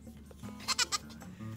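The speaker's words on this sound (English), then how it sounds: "there's the little baby goat." A baby goat being picked up on a Missouri homestead gives three quick, close bleats in a row over low background hum, with no talking.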